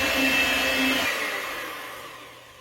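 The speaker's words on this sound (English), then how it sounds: "Add a cup of all-purpose flour in here and blend carefully." Electric kitchen mixer running steadily as flour is blended into batter, a close, continuous motor whine with a low hum that cuts off after about a second and leaves a fading higher drone.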